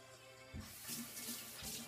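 Tap water runs steadily into a kitchen sink while tomatoes are rinsed under it. The rush is moderate and close, with a few splashy surges as the fruit is turned in the stream, and no one speaks.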